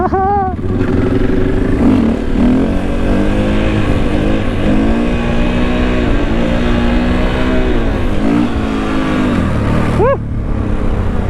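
A new motorcycle's engine runs loud and close, its pitch rising and falling in repeated revs over a steady idle. A sharp throttle blip comes near the end before the engine settles.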